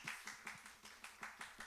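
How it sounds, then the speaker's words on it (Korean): Church youth congregation clapping in unison, a quiet, evenly spaced run of about nine claps in a steady rhythm. "박수."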